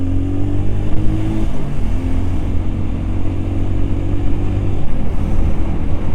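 A car engine drones steadily and rises as the vehicle speeds up to overtake two large trucks on a road through protected forest, with continuous road and wind rumble and no talk.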